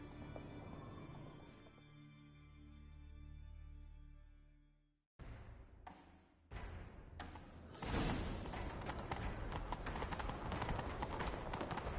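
Music fades out in The Witcher 3: Wild Hunt, then horse hooves start clip-clopping, building into a fast, loud gallop that continues steadily to the end.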